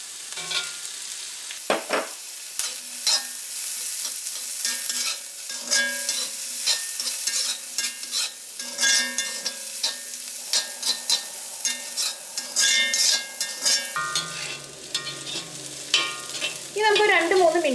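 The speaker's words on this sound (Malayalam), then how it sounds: "ഇതിലേക്ക് നമുക്ക് നമ്മൾ വറുത്ത് വെച്ചേക്കുന്ന ബീഫ് ചേർക്കാം" Fried beef and cooked vegetables for beef fried rice sizzle in a hot pan while a spatula scrapes and stirs them in quick, repeated strokes, the frying hiss loud and close throughout with sharper clatters near the end.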